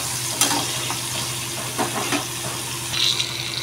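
Pieces of pointed gourd (potol) frying in a pan until reddish, a steady soft sizzle with a few brief stirring clinks and scrapes, close and moderately quiet.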